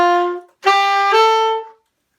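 Wind instrument phrase in jazz articulation that mixes tongued and slurred notes. A clear sustained tone is followed by a brief gap, then two connected notes that slide into each other, close and alone.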